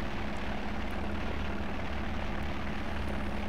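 Continuous drone of a simulated aircraft engine in the X-Plane flight simulator, a steady, unchanging hum with a low tonal buzz, loud and close, no talk over it.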